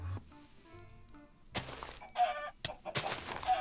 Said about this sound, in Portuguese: Sai, mano, essas galinhas doidas, velho!